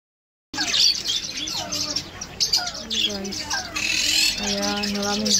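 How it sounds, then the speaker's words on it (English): Many caged birds in a pet shop that also sells fish, chirping and squawking densely and close by, with shrill calls overlapping continuously after a brief silent start. "Ayan, maraming birds."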